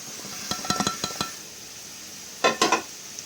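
A spoon scrapes and clinks against a pan while dry-roasted semolina is mixed into fried potatoes, two clusters of sharp metallic knocks over a faint sizzle, close and with no talk.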